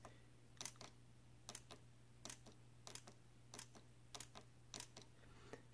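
A 3D-printed electromechanical flip clock segment clicks in sharp, evenly spaced pairs of ticks, about one pair every half second to second, faint and close in a quiet room.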